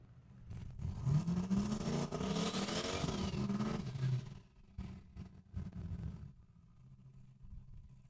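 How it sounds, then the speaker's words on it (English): A 1992 Ford Mustang drag car in a street-tire class launches down the strip at a heads-up drag racing event at Saskatchewan International Raceway. Its engine gives a loud, rising roar for about four seconds, then fades away into the distance. "Landmark, Manitoba, 92 Ford Mustang."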